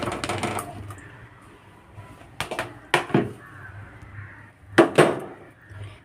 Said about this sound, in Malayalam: ഞാൻ കട്ട് ചെയ്ത് വെച്ച കഷ്ണങ്ങളൊക്കെ പരിപ്പിലേക്ക് ഇട്ട് കൊടുക്കാം.